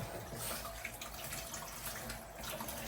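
Water spills in a steady, faint splashing pour that runs unbroken for a few seconds indoors, with no voices over it.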